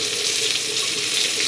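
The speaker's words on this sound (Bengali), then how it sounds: "তো দুটো বেগুন ভেজে দিই" Two eggplants frying in a pan give off a steady, close sizzling hiss that stays even from start to finish, with no talking over it.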